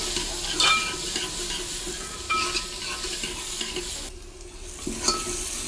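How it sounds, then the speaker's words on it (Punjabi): Onions are stir-fried in a pan for a dhaba-style black chickpea curry, a close continuous sizzle with periodic scraping strokes of a spoon against the pan. "ਹੁਣ ਪਿਆਜ਼ ਆਪਾਂ ਭੁੰਨ ਲਵਾਂਗੇ"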